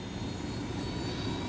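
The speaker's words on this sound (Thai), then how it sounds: "ขับเครื่องบินว่ะทุกคน" Steady airplane engine drone from a plane in the video game Ghost Recon Wildlands, a continuous broadband roar that stays loud and even throughout with no talk over it.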